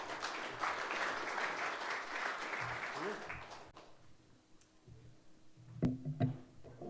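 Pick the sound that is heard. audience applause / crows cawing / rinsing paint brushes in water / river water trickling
audience applause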